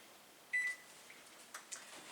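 An oven control panel beeps once as it is set to preheat to 350 degrees, a short clear electronic tone, followed by a few faint button presses in a quiet kitchen.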